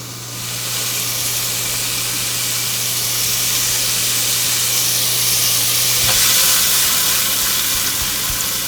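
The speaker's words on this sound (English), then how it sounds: "All right, let's add the shrimp." Shrimp sizzling in olive oil in a sauté pan on a range, a steady loud hiss that swells as they hit the hot oil and holds evenly throughout, with a faint steady hum beneath.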